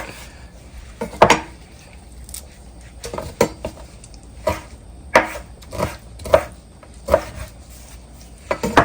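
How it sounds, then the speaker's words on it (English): A knife chops shrimp on a cutting board in irregular sharp knocks, close and fairly loud, with brief pauses between clusters of cuts and no talking. "let's chop the shrimp on up"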